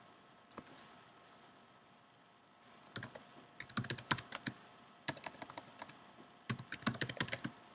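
Clicky bursts of typing on a computer keyboard while writing Swift code for an iOS app, with short rapid clusters of keystrokes separated by pauses, close and clear in a quiet room.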